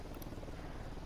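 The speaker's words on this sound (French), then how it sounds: "Un hélico de Unidad, profil bas." Helicopter flying in the tactical shooter Ghost Recon Wildlands, a dense continuous rotor roar filling the brief moment, loud and steady with no clear voices.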